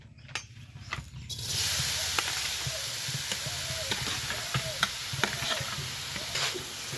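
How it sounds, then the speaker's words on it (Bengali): Mashed coconut sizzles and hisses in a hot wok while a spatula scrapes and stirs it in repeated strokes, close and steady, with no talking. "গরম কড়াই দিয়ে দেব চটকানো নারিকেল"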